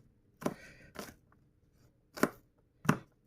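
Garlic being chopped with a knife on a board: four sharp, close knocks in two pairs with a pause between them, heard alone in a quiet room.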